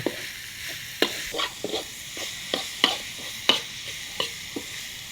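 Pork stir-fried in a pan for breakfast: a soft steady sizzle under sharp, irregular scraping and clacking strokes as the meat is stirred, close up with no talking.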